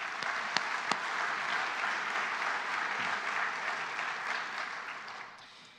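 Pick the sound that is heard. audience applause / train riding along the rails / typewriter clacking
audience applause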